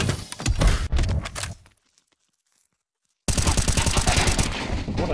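Dense bursts of automatic gunfire fill a video game match, loud and rapid, cutting to near silence for over a second before the firing resumes just as heavily.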